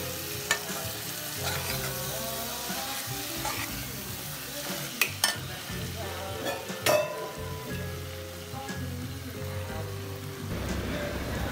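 Vegetable biryani ingredients sizzle in a pan as they are stirred and mixed, with a steady frying crackle under repeated scraping and occasional sharp clinks of the spoon.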